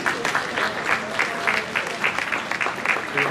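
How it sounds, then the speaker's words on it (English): Ballroom audience applauding dance couples at a junior grade standard final, steady crowd clapping held at an even level throughout, fairly close and full, with no speech on top. "let's give them a round of applause"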